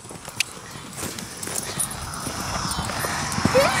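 A big Tennessee Walking Horse canters in an outdoor riding session, its hoofbeats thudding in a loose repeated rhythm at close to middle distance over steady background noise.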